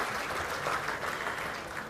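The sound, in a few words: audience applause for small business finalists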